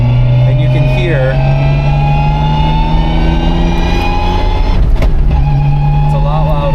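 Nissan GT-R with a manual close-ratio gearbox and PPG dog-engagement gears, a steady loud engine drone with a whining gear tone running throughout, close to the mic, while a person talks over it.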